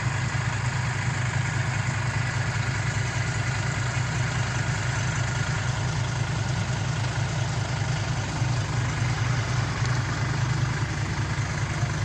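Steady, loud diesel engine drone from a dump truck stuck in mud, a continuous low rumble and vibration holding at an even idle without revs or pauses, close by and alone with no voices.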